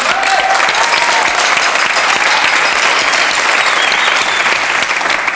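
A French television game show studio audience claps for Philippe Guérin in a thick, continuous burst that holds level for several seconds, near and loud, with a faint murmur of crowd beneath.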